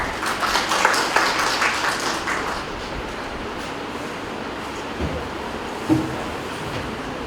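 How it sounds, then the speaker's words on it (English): Applause from an audience at an academic lecture series on green organic synthesis swells loudly at the start, then thins and fades over a few seconds, leaving quieter room noise with a couple of isolated knocks. "So please welcome him with big round of applause."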